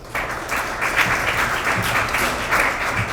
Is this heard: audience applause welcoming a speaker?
yes